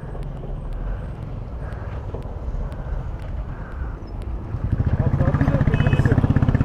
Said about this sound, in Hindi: बाइक स्टार्ट करके देखो